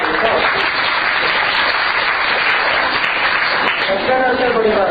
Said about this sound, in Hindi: देखो तालियों से ही समझ में आ रहा है, पर तालियां थोड़ी धीमी बजी